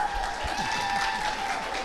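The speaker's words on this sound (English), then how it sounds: "Let's give them a nice round of applause right there." A crowd at a church charity evening applauds a donor with brief, steady clapping that fills the hall.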